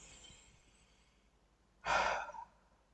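A single audible breath from a person in a first-aid demonstration, one short strong exhale or sigh near the two-second mark after quiet, soft breathing, close and alone with no talk.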